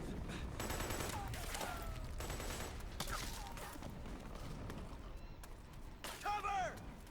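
Gunfire in Metal Gear Solid 4's South America chapter: repeated bursts of shots in a busy firefight, close and loud, with voices talking throughout.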